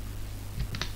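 Keys on a computer keyboard are pressed for a Ctrl+S save shortcut, giving two or three quick soft clicks close by over a steady low hum.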